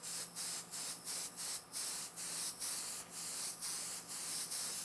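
Airbrush misting very light coats of paint onto a show-quality model car body, a steady close hiss broken by short regular pauses roughly every half second as the trigger is released.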